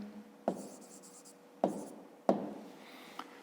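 Pen strokes on paper while working a fifth-grade math exercise on area, three distinct short scratching bursts spaced about a second apart, close and fairly quiet.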